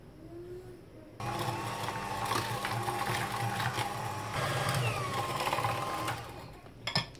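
Cream cheese and sugar are whisked for a banana cheesecake-filled cake, a steady whirring buzz that starts abruptly, runs for several seconds at an even level, then cuts out near the end.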